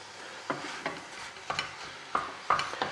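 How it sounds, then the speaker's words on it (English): Minced beef browning in a frying pan for a potato pie, with a steady background sizzle broken by a series of sharp scraping stirs roughly every half second, close and moderately loud, no talking. "now I just want to brown this meat off"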